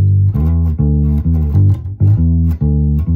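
Bass guitar groove that jumps between root notes and their octaves, played up close with a steady rhythm of punchy, evenly spaced plucked notes that fill the clip alone.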